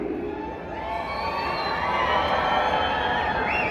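A crowd at a live jousting and sword-fighting show screams and cheers, a dense roar of shrill voices and whoops that swells and stays loud the whole time, with children's shouts standing out.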